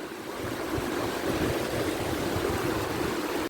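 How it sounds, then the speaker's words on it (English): A river at Lasswade, Lothian, Scotland roars continuously, a broad steady wash of flowing current heard close by with no voices. "Hear the power of the river."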